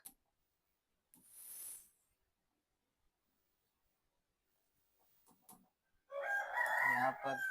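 A rooster crows once at a distance, a faint rising call, followed by brief clucking and rustling and then a louder, closer burst of fowl calling toward the end, with no talk.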